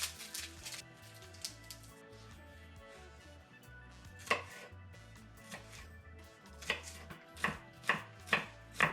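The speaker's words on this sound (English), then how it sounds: "I'm just going to chop a few shallots" Shallots chopped with a knife on a board: quiet scattered taps at first, then a series of sharper, evenly spaced chops growing more frequent toward the end.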